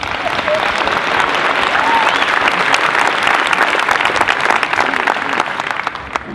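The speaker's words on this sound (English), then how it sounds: "Let's give them a big round of applause for that" Sustained applause from a live concert crowd, dense steady clapping at close range that carries through the whole stretch with some scattered voices mixed in.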